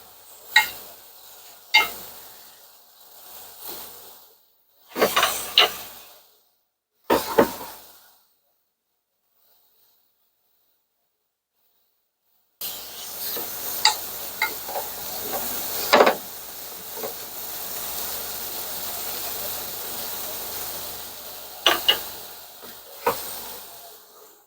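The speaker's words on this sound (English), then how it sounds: "We're going to let these wilt down for a minute or two." Mushrooms wilting in a hot pan with other vegetables give off a steady hiss and sizzle. The sound comes in short bursts with several sharp clinks and taps. A silent gap follows, then a denser, continuous sizzle with occasional sharp stirring clicks.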